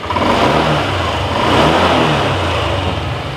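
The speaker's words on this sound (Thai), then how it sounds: "รถค่อนข้างอัตราเร่งดีนะครับ แรงเลยนะครับสำหรับคลิก 125 นะครับผม" A 2020 Honda Click 125i scooter with its original stock engine and exhaust revs and accelerates, holding a loud, close, sustained engine drone that swells slightly midway before easing off.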